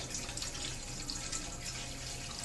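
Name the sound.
tap water filling a chafing dish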